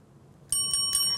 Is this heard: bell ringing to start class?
yes